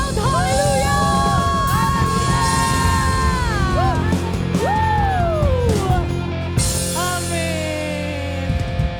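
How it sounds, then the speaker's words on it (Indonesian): At a Pentecostal Sunday worship service, the congregation applauds and shouts, with loud yells and whoops rising and falling over steady clapping. The crowd is close and energetic, and the noise eases briefly before surging again. "Berikan tepuk tangan 1 menit bagi Tuhan Yesus."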